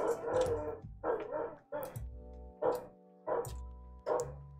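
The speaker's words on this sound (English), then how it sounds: "I'm sorry, my dog is barking at literally nothing." A dog barks in a series of about six loud, close, sharp barks with short pauses between them, heard indoors over a steady low hum with no talking.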